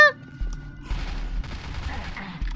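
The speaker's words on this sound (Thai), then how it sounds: "ฉันจะยิงแกตรงนี้แหละ" Gunfire from a zombie-themed mobile first-person shooter, Crossfire Legends, comes in short repeated bursts with a low thumping rumble underneath, loud and close over game sounds.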